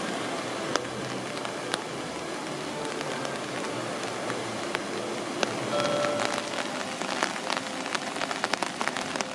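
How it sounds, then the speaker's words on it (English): Rain pattering steadily on an umbrella at an outdoor theme park, a dense, close hiss of drops with occasional sharper taps, continuous and fairly loud throughout. "that sound is the rain hitting my umbrella"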